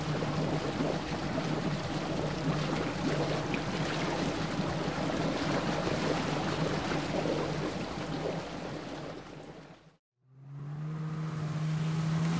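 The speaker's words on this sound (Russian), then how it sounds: "Деревянная лодка." Wooden boat on open water: a steady low motor hum over splashing waves and wind, continuous for about ten seconds, a brief break, then the engine tone returns slightly clearer.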